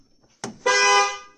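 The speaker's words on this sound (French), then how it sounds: "L'alarme s'active, le véhicule se met à klaxonner et les clignotants clignotent" A short click is followed by a single loud, sustained blast from a Volkswagen Golf 7 horn as its anti-intrusion alarm triggers, close and alone before fading out.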